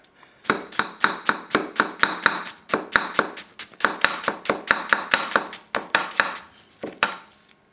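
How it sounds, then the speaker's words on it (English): Rapid, steady chops of a Fernandez 230 gyuto knife through an onion on a cutting board, about twenty crisp strikes in a regular rhythm, close and clear with no talking. "You don't want to chop an onion way up here, so we're going to use the heel."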